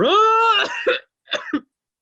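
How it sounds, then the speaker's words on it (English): A person coughs close by: a drawn-out, rasping hack, then a brief pause and two shorter, sharp coughs, with silence after. "Hope that's not a COVID cough."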